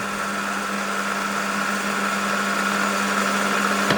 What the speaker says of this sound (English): Oh, it's making a scraping cut.